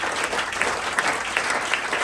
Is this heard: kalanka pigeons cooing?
no